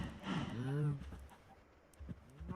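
Minecraft chickens cluck in a short burst of bird-like calls near the start, followed by quieter scattered clucks and background game sounds.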